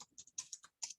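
Computer keyboard typed on while writing C code, a brisk burst of about eight close, crisp key clicks in quick irregular succession.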